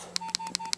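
Keypad beeps from a Nokia 6310i mobile phone as buttons are pressed: four short, bright tones evenly spaced under a second, close and clear over a faint steady hum.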